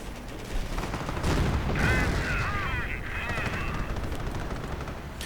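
Heavy artillery barrages and gunfire roar steadily in a 2v2 World War II strategy game match, US forces against German Wehrmacht and Panzer Elite, as a dense, rumbling din under a commentator's voice.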